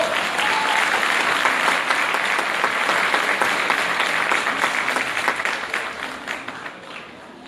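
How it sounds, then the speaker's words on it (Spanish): Audience applause fills a theatre during a tribute event in Puebla, a loud, dense, sustained wash of clapping from a large crowd that holds steady and then thins slightly toward the end, with no clear speech. "Recibámoslo con fuertes aplausos."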